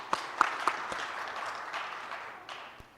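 Applause from an audience at the official launch of the WFEO ECBAP programme, a few sharp claps at first and then a thin, fading patter that trails off quietly.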